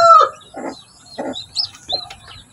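A hen with two newly hatched chicks: low, close clucks from the hen mingle with a few thin, high peeps from the chicks, short and spaced apart.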